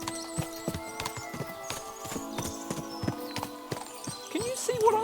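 Horses in a medieval setting, with steady clip-clop of hooves on hard ground at close range and a whinny near the end, amid a busy stable or yard ambience.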